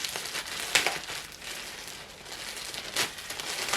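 Plastic bag crinkling and rustling as a subscription box is unboxed, with close, uneven crackling bursts and a couple of louder crunches, no talk over it.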